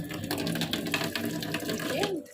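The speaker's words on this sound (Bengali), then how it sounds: "এদিকে আমি ধনিয়া পাতাটাকেও ভালো করে ধুয়ে নিচ্ছি" Coriander leaves rinsed under a running tap, a steady close splash of water with handling noises, ending abruptly as the flow stops.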